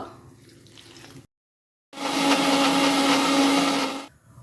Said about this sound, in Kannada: ಸ್ವಲ್ಪ ನೀರು ಹಾಕಿ ರುಬ್ಕೊಳ್ಳುವ